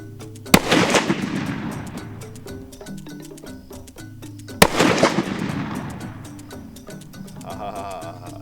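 Two loud hunting-rifle shots fired several seconds apart outdoors while checking zero, each a sharp crack followed by a long rolling echo that fades into quiet background.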